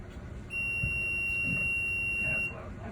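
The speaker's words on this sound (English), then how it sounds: "can you test the audible alarm?" Audible alarm on a CAT generator being tested, a steady high electronic tone sounding for about two seconds over a low background hum, fairly loud.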